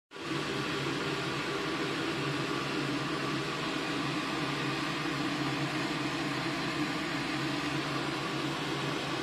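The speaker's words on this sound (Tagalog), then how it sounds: "kumukulo na siya" Pot of cordyceps flower soup coming to a boil, giving a steady, dense broadband rush with a low bubbling rumble, continuous and fairly loud throughout with no talking.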